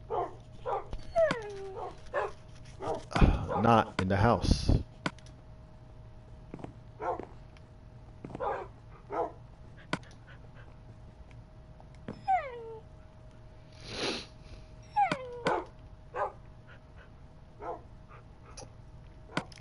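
Video-game dogs in Minecraft give short, scattered barks, whimpers and cat-like cries across the stretch, some close and loud, with a brief spoken line partway through.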